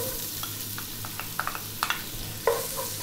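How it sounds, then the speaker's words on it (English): Onion added to oil on high heat for fish head curry, crackling with a few sharp pops and short sizzles over a steady low hiss, near and moderately quiet. "Next up, we're gonna add in our onion."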